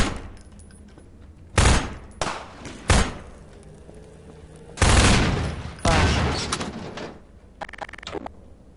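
Gunfire in the video game Half-Life 2 comes as several loud, sharp bursts and single shots spaced through the clip, with quieter game ambience between them.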